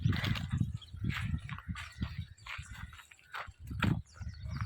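Hooves of a pregnant cow being walked on the ground at a cattle sale, a steady clip-clop of repeated footfalls close by, fairly busy and continuous with some outdoor background noise.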